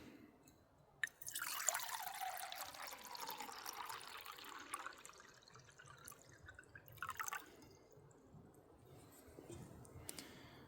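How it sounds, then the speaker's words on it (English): Water pours and trickles into a cup outdoors in the snow for several seconds, a soft splashing fill that fades, followed by a few faint drips and clinks. "Let's get water in our cup."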